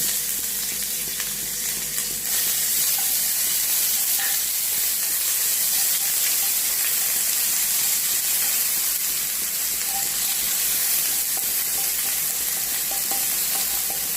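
Crushed ginger, green chilli and garlic fry in hot oil with cloves and cardamom, a loud, even sizzle and hiss running throughout with occasional stirring sounds and no speech.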